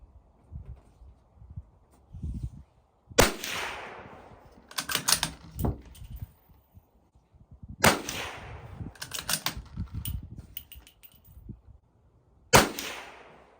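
Sharp .22 Magnum rifle shots from a Ruger Precision firing 50 grain ammunition, several distinct cracks spaced seconds apart with quieter rustling and mechanical clicks between them at an outdoor range.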